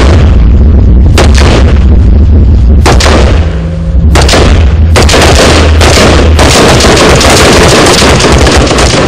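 Rapid, heavy gunfire from BOPE police military training in the Pantanal booms in loud repeated bursts, close and continuous, with sharp cracks punctuating a dense rumble throughout.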